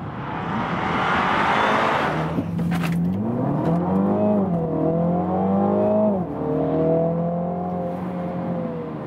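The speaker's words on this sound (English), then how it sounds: "that was the launch control" A 2021 Mini John Cooper Works Clubman with a 306 hp engine launches under launch control, with a rising engine whine climbing through the revs, a brief pause at the shift, then pulling again at moderate volume without talk.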